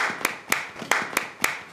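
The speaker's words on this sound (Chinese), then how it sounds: "鼓掌。" A small group claps in a military unit setting, five sharp, evenly spaced claps ringing out close and loud with no talk over them.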